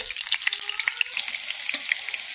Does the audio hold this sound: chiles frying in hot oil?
yes